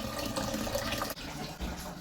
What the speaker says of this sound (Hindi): अब मैं पानी जो है वो सबसे पहले पानी छानूंगी।